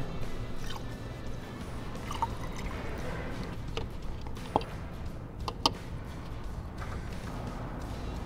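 Coolant pours and gurgles into a Chevy Impala's radiator close by, with occasional drips and soft splashes over a low steady hum.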